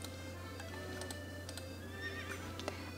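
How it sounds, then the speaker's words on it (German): Horse neighs and whinnies ring out over a steady background hum with light clip-clop ticks in Horse Haven World Adventures, a horse-breeding video game with a Belgian Warmblood among its horses, with several short calls spread across the stretch. "ein belgisches Warmblut namens Paris"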